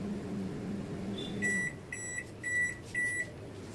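A microwave oven being set to an 8-minute timer to bake a veg pizza: a low steady hum broken by a short run of bright electronic beeps, close and fairly quiet.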